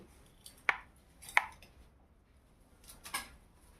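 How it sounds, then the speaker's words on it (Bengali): Knife chopping kulekhara greens on a board: a few sharp, separate cuts close up, spaced about a second apart, then a softer scraping chop, with no talk. "দেখুন কিভাবে আমি শাক কাটছি।"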